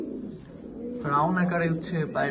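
Top-quality imported pigeons, crested males and females, give low soft coos under close, steady talk.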